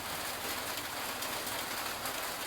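Steady, dense rain falling continuously, a broad hiss of drops spattering on surfaces with no pauses.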